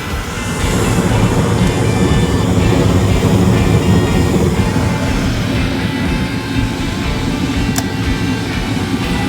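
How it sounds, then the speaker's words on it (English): A York furnace combustion blower runs as the heat fires up, making a loud, steady whooshing roar that holds constant throughout with no voices. "Kick the heat on. Combustion blower is working."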